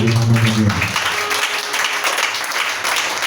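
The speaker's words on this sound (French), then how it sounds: "Acclamez Jésus pour vous." A church congregation claps loudly together on the last day of a fasting and prayer service, a dense continuous wash of applause that fills the room, with a brief low tone at the start.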